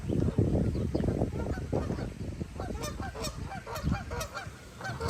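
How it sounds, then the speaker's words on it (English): A duck is being chased off by another bird on a Los Angeles outdoor walk, with repeated loud honking and squawking calls in quick bursts, close by, over rustling and scuffling. "That guy's just chasing off that duck."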